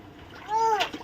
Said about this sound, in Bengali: জল নিয়ে খেলা?